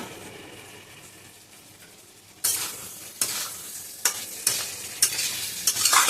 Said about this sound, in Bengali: এই যে আলু আর ফুলকপি ভাজাটা মশলার মধ্যে দিয়ে দেবো